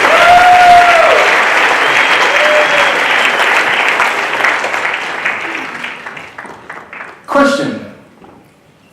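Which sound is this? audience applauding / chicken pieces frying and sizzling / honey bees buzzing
audience applauding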